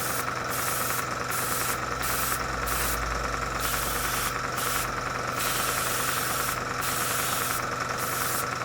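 A 0.3mm airbrush sprays paint onto a tank model, a steady continuous hiss with short bursts of brighter spray at irregular intervals over a low compressor hum, close and alone.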